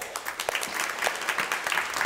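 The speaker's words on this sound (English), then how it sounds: "So let's clap once again for her." A church congregation applauds a retiring parish visitor during a traditional worship service, a steady wash of many hands clapping at moderate volume, continuous and fairly close, without talk over it.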